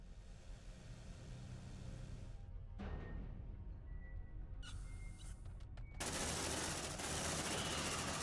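Automated turrets in Aliens: Dark Descent firing sustained rapid bursts, faint and distant at first, then a dense continuous rattle of gunfire filling the final seconds.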